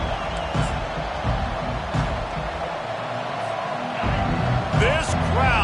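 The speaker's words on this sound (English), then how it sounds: "This crowd, full throat, splitting the eardrums and letting him know it's going to be a long day." A football stadium crowd roars in a loud, continuous wash of noise, with a commentator's voice speaking over it throughout.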